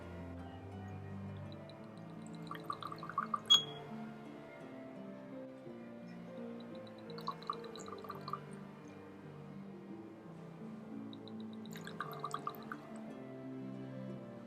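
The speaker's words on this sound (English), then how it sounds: "let's get to pouring these whiskies" Whisky poured into glasses in three separate short bouts, quiet trickling and dripping splashes close by against a low, soft background.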